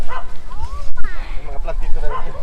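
Dogs yip and bark in short bursts nearby, mixed with a voice talking over a noisy outdoor background.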